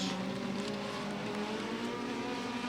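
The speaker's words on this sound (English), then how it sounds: "3 wide for the legend cars here with the Beckley Speedway." Legend race cars roar around the oval at Beckley Motor Speedway, a loud continuous engine drone with rising and falling pitch as several cars run close together.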